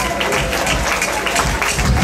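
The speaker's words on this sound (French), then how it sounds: "On l'applaudit." Loud, close crowd applause at a Miss Cazères 2012 beauty pageant final, dense clapping with voices mixed in.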